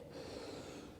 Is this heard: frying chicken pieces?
no